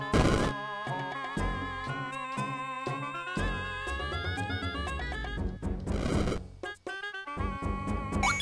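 Bombs blasting walls in an NES game: chiptune music plays throughout, broken by harsh noisy bursts, with a loud crunching blast near the middle and shorter bursts around it.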